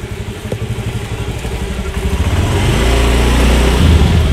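Motorcycle engine revving up close, a loud, rapid pulsing idle that builds in speed into a sustained, heavier roar.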